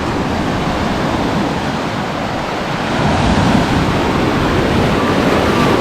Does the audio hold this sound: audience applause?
no